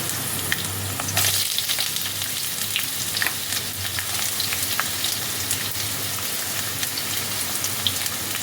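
Chopped onions, whole ginger and spices fry in oil for a coriander paneer dish, making a steady close crackling sizzle with occasional sharp pops and stirring clicks, with no talking.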